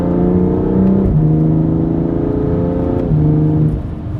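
A BMW F87 M2 Competition engine revs hard with quick, stepped drops in pitch as the dual-clutch transmission shifts down, close and continuous with no talking.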